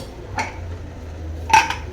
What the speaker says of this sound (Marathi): आता कुकरचं झाकण लावून घेऊ